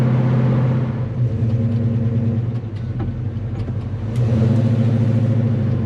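A 1970 Chevelle SS V8 driven around town rumbles close and loud, with its throaty engine note easing off in the middle and then swelling again as the car accelerates.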